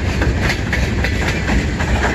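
A train rolls along the track at Emmett, Michigan, with steady close rumble and repeated clickety-clack of wheels over rail joints throughout.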